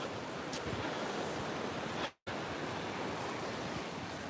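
Ocean waves break on Carmel Beach, California, a steady loud wash of surf with wind over the microphone, broken by one brief silent gap midway.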